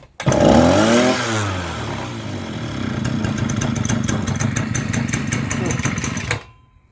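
A petrol brush cutter roars as it is revved hard on the throttle, then settles into a loud, steady, buzzing run before cutting out abruptly near the end.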